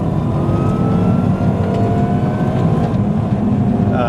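Cabin sound of a Mini Cooper S R53 driven hard under load, a continuous loud engine drone with rising revs, steady and close throughout.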